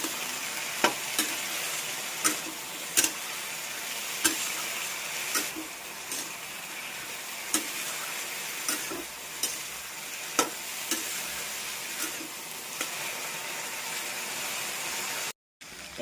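Chickpeas with salt and turmeric frying in a pan, a steady sizzle under regular sharp clinks of a spoon stirring against the pan.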